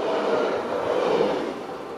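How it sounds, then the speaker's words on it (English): A train rushes past a station without stopping on a rail line near the German border in Luxembourg, a steady loud roar of rolling wagons filling the whole stretch. "Here comes a train. Doo-doo-doo-doo. It's not gonna stop!"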